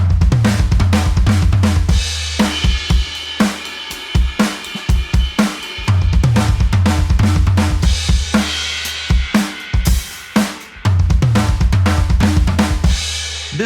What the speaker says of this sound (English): Number 9 is a fill. It's very angular